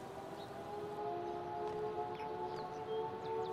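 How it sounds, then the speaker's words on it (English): A wailing siren in the video game Life is Strange: True Colors, a steady tone held across the scene at moderate distance, faint and continuous with no talk over it. "Oh no, that sirens."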